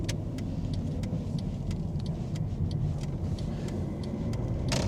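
A Mercedes W204 C200 CDI cruising on a road at around 100 km/h, producing a steady low rumble of engine and road noise with faint ticks and clicks, continuous and close, no talking.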